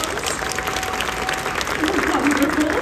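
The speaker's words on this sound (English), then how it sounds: "Everyone give my helpers a big round of" An audience at SeaWorld Orlando's Mrs. Claus Magic Kitchen show gives a round of applause for the helpers, a steady wash of many hands that swells toward the end, with talking heard over it.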